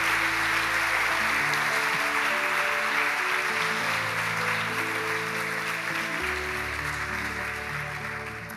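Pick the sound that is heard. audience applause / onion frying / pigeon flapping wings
audience applause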